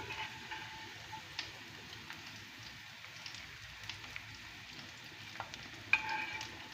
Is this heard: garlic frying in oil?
yes